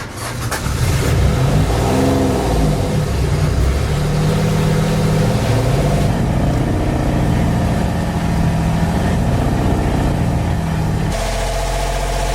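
A sailboat's inboard engine, just restarted after an O-ring was replaced behind its filter, runs loud and steady with a rough, continuous drone and small surges in revs, then its tone shifts abruptly near the end.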